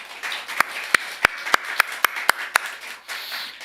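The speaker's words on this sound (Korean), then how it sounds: "크게 박수 한번 할까요?" Sharp, evenly spaced claps sound in a church congregation after a choir hymn, about nine crisp beats in a steady rhythm over a soft background murmur.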